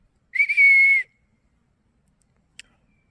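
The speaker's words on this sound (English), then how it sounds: "Oh, it's a hawk." A hawk gives a single clear, high whistled call, sustained for under a second, followed by a few faint clicks in otherwise quiet surroundings.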